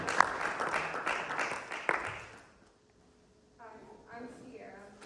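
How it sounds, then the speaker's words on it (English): Classroom applause for a student speaker at a university speech session, a moderate burst of clapping that fades out midway, followed by a pause and then a person beginning to talk. "Let's give a round of applause for Sierra."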